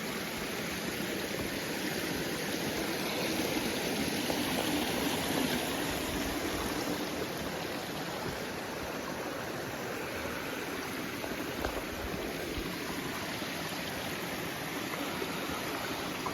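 Creek water at Nelly Cascade on Duncan Creek in Washington state, a steady rushing and splashing flow close by that holds evenly throughout with no voices.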